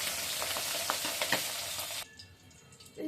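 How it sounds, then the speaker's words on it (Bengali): Tangra fish fry in hot oil, a loud close sizzle with sharp spattering pops that drops abruptly to a quieter bubbling hiss after about two seconds. "এবার ট্যাংরা মাছগুলো তেলে দিয়ে"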